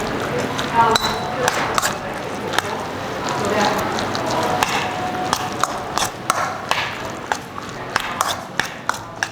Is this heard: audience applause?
no